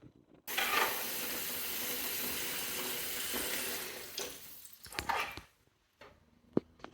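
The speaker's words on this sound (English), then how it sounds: "give these a rinse" Parts being rinsed in a sink of cold water after cleaning out solution: a sustained rushing, splashing wash of water for several seconds, then quieter scattered drips and knocks.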